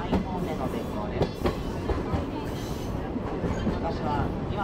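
The Sagano Romantic Train runs along the old San'in Main Line tracks in Kyoto with a continuous rumble and soft rhythmic rail clatter, fairly quiet, while someone talks faintly over it.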